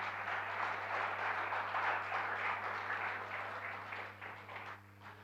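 A church congregation applauds, a steady wash of many hands clapping together at moderate distance over a constant low electrical hum, fading slightly at the end.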